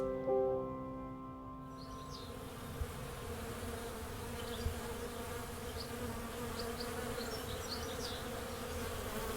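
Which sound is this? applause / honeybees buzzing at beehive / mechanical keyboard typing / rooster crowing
honeybees buzzing at beehive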